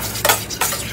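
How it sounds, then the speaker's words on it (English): Butter being whisked into vanilla pastry cream, two quick close scraping whisk strokes against the bowl, nothing else heard. "with the vanilla, you can just whisk that nice butter right in."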